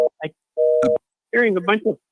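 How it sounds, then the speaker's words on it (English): A telephone rings in the background of a call-in conversation, giving a short steady electronic tone between bursts of people talking. "I'm hearing phone ringing in the background."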